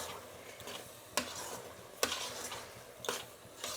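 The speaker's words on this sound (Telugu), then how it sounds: "ఇప్పుడు దీన్ని బాగా కలుపుకుందాం." Sweet lentil filling mixed with grated coconut is stirred in a pan for holige, giving soft scraping strokes with a few sharper clinks of a spoon against the pan, close and fairly quiet.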